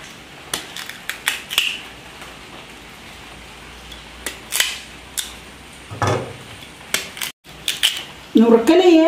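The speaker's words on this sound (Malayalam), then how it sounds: "ഇനി അതൊന്ന് നുറുക്കട്ടെ അല്ലേ." Peeled tapioca (cassava) being chopped by hand in a home kitchen, a scattered series of sharp knife taps and cuts with irregular pauses, close and moderately loud, ending with a denser clatter.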